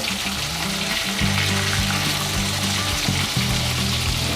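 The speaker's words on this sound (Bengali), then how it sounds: "মাছটা দেখুন আমার ভাজা হয়ে গেছে।" Rohu fish fries in hot oil for a curry, a loud continuous sizzle and crackle close by that holds steady throughout with no talking.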